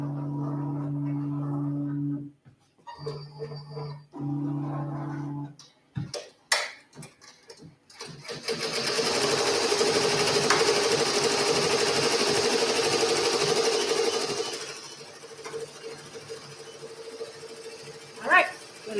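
Embroidery machine stitching a free-standing lace gnome, a loud, steady rapid mechanical chatter for about six seconds, preceded by a low motor hum, scattered clicks and handling knocks.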